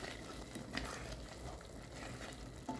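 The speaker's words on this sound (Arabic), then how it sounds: "انا دلوقتي قاعده بسبك الطماطم" Tomatoes frying in a pan for a Sousou-style moussaka sizzle steadily and densely throughout, close up with occasional light pops and stirs.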